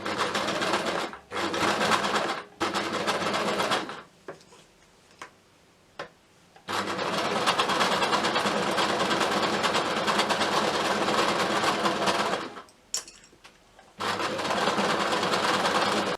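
A sewing machine runs a straight stitch around a hat brim in fast, rattling bursts, stopping and starting several times with short pauses between runs, close and clear with no talking.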